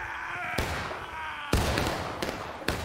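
Gunfire in an infantry combat video game sounds as sharp broadband cracks, three or four loud reports a second apart, each trailing a rumbling echo.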